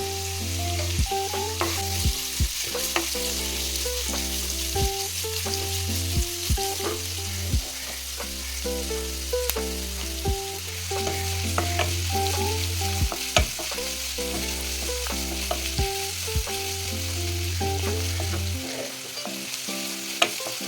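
Curry leaves frying in a pan for a jackfruit seed curry give a strong, constant crackling sizzle with stirring, heard under loud melodic background music for the whole stretch.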